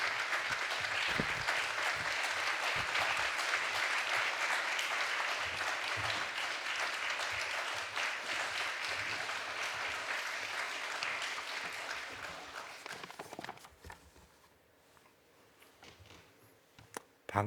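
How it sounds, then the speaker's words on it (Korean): An indoor audience at a Friday church prayer and testimony meeting claps to welcome a professor to the stage. The dense, sustained applause runs for about thirteen seconds, then tapers and fades into quieter scattered sounds. "우리 박수로 환영하겠습니다."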